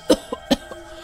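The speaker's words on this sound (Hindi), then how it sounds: "खांसी ज्यादा ही दम खींच रही है।" A woman coughs in a few short, close bursts, two stronger hacks with softer ones between, from a feverish illness with a heavy, breath-pulling cough.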